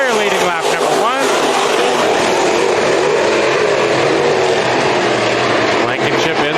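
Dirt-track race cars battle for the lead at Bakersfield Speedway during a heat race, a dense continuous roar of engines at steady loudness with commentary running over it.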